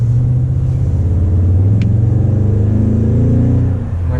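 A 2019 Toyota Tundra TRD Pro with a naturally aspirated engine downshifts, giving a loud, steady low rumble that swells in pitch as the revs climb, close and alone with no voices.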